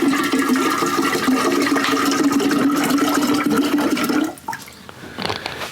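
Water poured steadily into bourbon to proof it, a continuous splashing, gurgling stream close by that stops abruptly, followed by faint bubbling and a quiet trickle.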